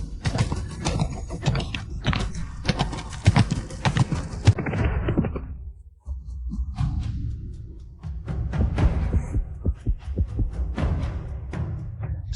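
Panicked horses clatter past with dense, rapid clip-clop hoofbeats, loud and close, with an occasional whinny rising out of the commotion and a short lull midway before the galloping clatter resumes.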